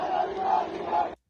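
A protest crowd in Shahr Noor, Iran, chanting a slogan in unison, loud and massed but slightly distant, three rhythmic swells that end abruptly.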